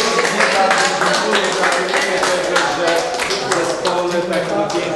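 Sustained applause from an audience at a Polish dance therapy class gathering, steady dense clapping at close range throughout, with voices mixed in beneath it.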